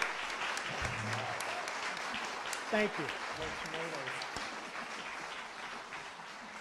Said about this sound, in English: they deserve a round of applause as a group for doing that